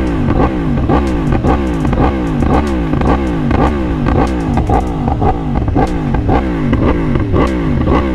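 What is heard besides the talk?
motorcycle engine revving with throttle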